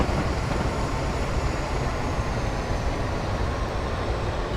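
A train rolls downhill over Shap on the West Coast Main Line in Train Simulator 2015, a steady, loud rumble of wheels and engine noise that holds unbroken throughout.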